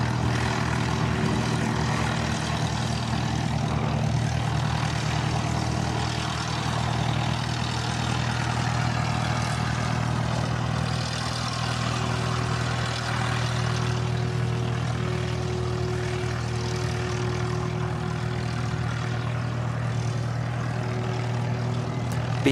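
A C-17A military transport jet taxiing after landing at Christchurch Airport, a steady, loud engine drone with a strong low hum that holds level for the whole stretch, no talk.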